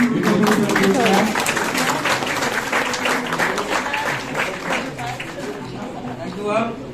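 Audience applause at a school-style ceremony, a dense burst of clapping that starts loud and gradually thins out, with voices and chatter mixed in.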